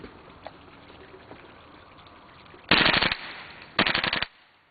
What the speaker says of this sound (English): Alright, I'm going to do a burst of full auto for you guys.